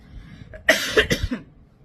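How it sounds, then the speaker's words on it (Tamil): A single harsh cough bursts out close to the mic, a quick cluster of rough exhalations that trails off into quiet. "அப்ப இருமல் வரும்போதெல்லாம்"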